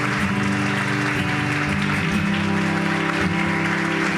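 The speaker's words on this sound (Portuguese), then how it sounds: "Dê um aplauso caloroso ao Senhor." Congregation in a church service applauding, clapping that runs under sustained music with steady tones, loud and continuous throughout.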